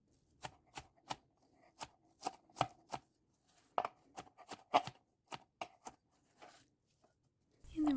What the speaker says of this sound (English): Just chopping the kale in one direction and then grabbing the leaves and turning them to chop it in the other direction.